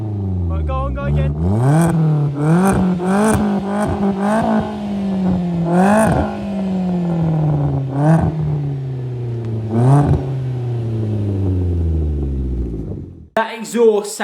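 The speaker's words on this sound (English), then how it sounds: "That exhaust sounds freaking insane, guys." A Corsa with a freshly fitted Cobra exhaust is revved in repeated sharp bursts, each one snapping up and dropping back to a burbling, throaty idle. The engine is close and loud throughout, and no voices are heard.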